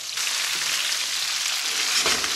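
Cooked Chinese salt and pepper pork chops go back into a hot skillet and are stir-fried, with a dense, even hiss of sizzling and a small burst near the end.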